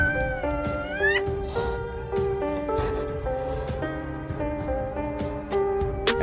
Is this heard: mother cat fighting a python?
yes